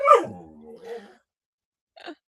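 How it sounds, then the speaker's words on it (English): A dog whimpers and cries indoors in two soft, brief bursts, a drawn-out whine followed by a short yelp after a pause. "The dog is crying."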